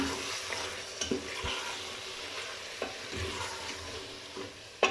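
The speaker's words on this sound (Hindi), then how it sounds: "अब मैं इसको अच्छे से मिक्स करूँगी" Quiet scraping and stirring in a pot as coriander, salt, red chilli and turmeric are mixed into meat, with a soft sizzle underneath and a few sharper knocks of a spoon against the side.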